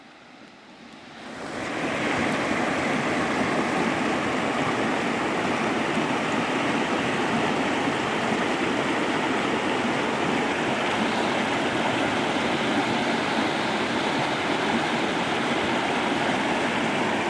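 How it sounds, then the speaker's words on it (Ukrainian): The Limnytsia river in the Carpathian mountains flows in a steady, loud broadband rush of water that fades in over the first moments and then holds constant, close by and alone without voices. "Ну тут у нас тече річка Лімниця."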